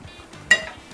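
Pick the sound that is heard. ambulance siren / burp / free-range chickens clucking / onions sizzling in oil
onions sizzling in oil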